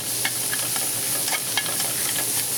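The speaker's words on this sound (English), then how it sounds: "now the onions are cooking pretty good. Kind of scrape the bottom of the skillet." Red onion and garlic cook in butter in a skillet, producing a bright, steady sizzle with a rapid scatter of light stirring clicks and scrapes.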